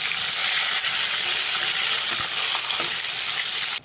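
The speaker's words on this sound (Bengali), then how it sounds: "গ্যাসের ফ্লেমটাকে মিডিয়ামে রেখে মাছগুলো ভালো করে ভেজে নিতে হবে" Constant loud sizzle of fish frying in hot oil over a medium flame, a dense bubbling hiss that carries on steadily throughout.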